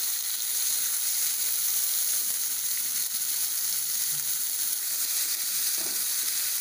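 Finely chopped onions fry in a pan with a steady, even sizzle that stays close and constant, with only a faint stir near the end.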